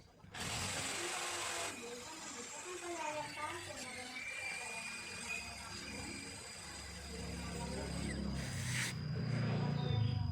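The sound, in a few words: power drill drilling hole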